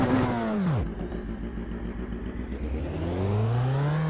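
A tuned 1266 hp Nissan R35 GT-R engine revs in a driving simulator, shooting up to a roar, dropping sharply, then settling into a steady idle that climbs again toward the end, close and loud with no talk.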